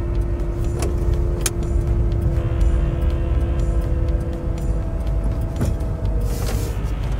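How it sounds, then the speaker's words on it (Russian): Inside a Shineray X30L electric van while driving, a steady low road and motor hum fills the cabin, with a few faint clicks and a brief rustle near the end. "в этом автомобиле просто гул и ничего больше"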